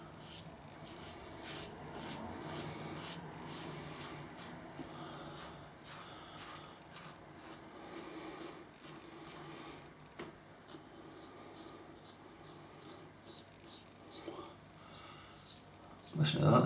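A razor shaves stubble against the grain on a final pass, giving a rapid series of faint, dry scratchy strokes that repeat quietly and close up, with a soft background hum.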